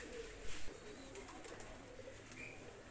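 Running pigeons, a pair of Pakistani breed birds, coo softly at close range over a low background hiss, with a brief louder rustle near the start.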